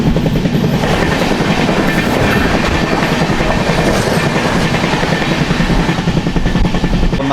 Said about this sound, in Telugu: ఇక్కడ మన ఎదురుగా చూసుకుంటే తిరుపతి డబుల్ డెక్కర్ అయితే వస్తుంది